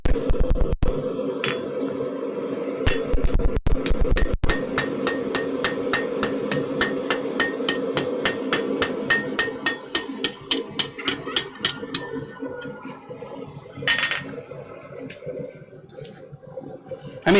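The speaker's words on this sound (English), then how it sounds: "Hammer to do a bunch of rapid movement." A heavy hammer forges metal in a smithy, first with a few loud separate blows and then a long run of rapid, evenly spaced ringing strikes that slow and thin out before one last burst.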